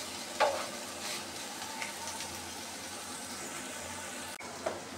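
Sliced okra frying in a pan for a bhaji gives a quiet, even sizzle heard close by, broken by a couple of faint stirring taps, with no talking.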